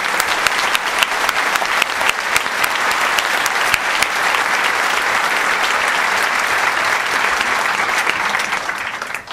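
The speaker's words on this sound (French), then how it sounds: "Oui, vous pouvez les applaudir," Audience at a political meeting applauding party comrades, a dense, sustained wall of clapping from a large crowd that holds steady and loud before easing off at the very end.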